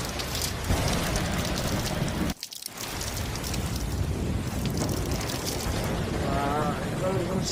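Heavy rain pours without a break over a village, a dense, steady hiss with a brief dip partway through, while voices talk over it.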